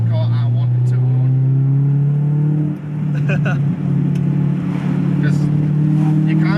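A Honda Civic Type R EK9 with period-correct parts revs its engine, a loud, close, steady mechanical drone that climbs in pitch with brief dips between pulls, heard from inside the car.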